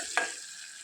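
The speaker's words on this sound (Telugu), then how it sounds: "ఈ టమాటా ముక్కలు సాఫ్ట్గా అయ్యేంత వరకు మనము తాలింపులో మగ్గించుకోవాలి." Tomato pieces in an oil tempering for stuffed brinjal curry give one quick stirring scrape. A faint, steady sizzle of frying follows.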